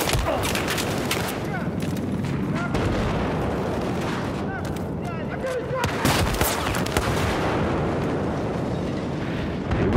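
Rapid automatic fire from an MP7 in Battlefield rattles on continuously and loud throughout, dense bursts overlapping with in-game battle noise and occasional voices.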